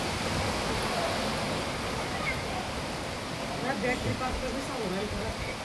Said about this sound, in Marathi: तुम्ही आवाज ऐकू शकता तुम्ही पावसाचा